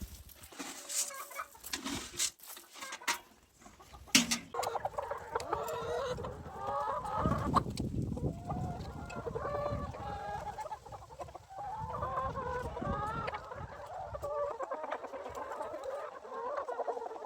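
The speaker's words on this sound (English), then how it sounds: "We always let our chickens roam freely on pasture." Free-range chickens on farm pasture cluck and chatter steadily at a moderate distance, with a few sharp knocks early on and the flock's calls rising and falling throughout.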